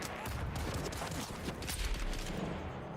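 Rapid gunfire bursts from a weapon in the video game Dune: Awakening, fairly faint and close, with a jumble of sharp shots and mechanical clatter over a few seconds.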